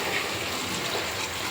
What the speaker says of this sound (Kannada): ಇವಾಗ ಇದಕ್ಕೆ ನೀರು ಹಾಕ್ತಾ ಇದ್ದೀನಿ.